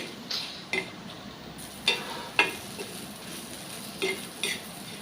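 Garlic and onion frying in coconut oil, a soft steady sizzle broken by several sharp clicks and scrapes of stirring at irregular intervals, close by with no talk.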